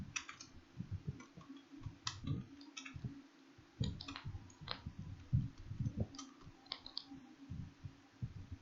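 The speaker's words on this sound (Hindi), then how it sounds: "अपने चैनल का नेम टाइप करें" Computer keyboard keys clicking irregularly while a channel name is typed in Adobe Photoshop 7.0, light close taps scattered over a low background hum with no voice.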